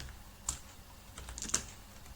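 A few light keystrokes on a computer keyboard while entering ledger entries, two or three sharp clicks with short gaps between them, close and alone.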